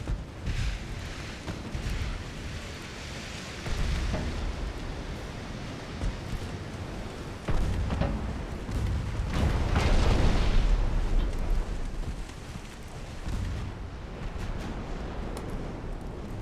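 Battleship main guns firing in the naval game Ultimate Admiral Dreadnoughts, heavy booming salvos with rumbling tails, several blasts swelling loud around the middle and overlapping into a continuous roar.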